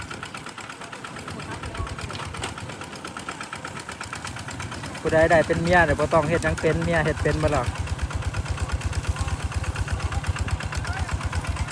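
A new farm tractor's engine runs with a steady rumbling idle throughout and rises into a louder, throbbing burst midway, while people talk over it.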